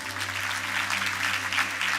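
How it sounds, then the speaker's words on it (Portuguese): Applause from a church congregation praising Jesus during a Portuguese-language worship service, a steady dense wash of clapping over a low sustained hum, moderately loud throughout the short moment. "Pode aplaudir o Senhor Jesus"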